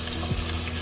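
Onions sautéing in a pan for stir-fried string beans and squash, a steady broadband sizzle with a low hum underneath, one brief louder swell midway, no voices.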